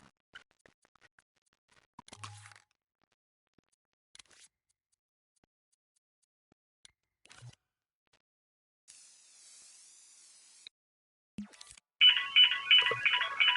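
A phone ringtone plays loud and pulsing near the end, after scattered clicks and scratches over near silence.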